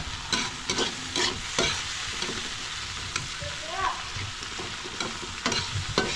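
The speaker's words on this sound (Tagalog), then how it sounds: "Kailangan lang natin siyang lutong-luto, yung pirat na pirat bidabidang kamatis na ito." Tomatoes frying in a pan, cooked down until soft and mushy, with a steady sizzle under repeated clattering stirs of the spatula at an uneven rhythm, close and fairly loud throughout.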